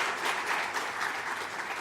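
A burst of steady clapping from a church congregation welcoming a missionary, continuous and fairly close, with no voices over it.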